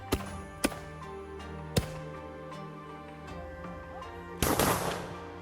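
Historical Japanese matchlock gunfire during Hōjutsu training by the Matsumoto Castle Gun Corps: three sharp, loud reports spaced irregularly over a humming background, followed by a longer burst of rough noise near the end.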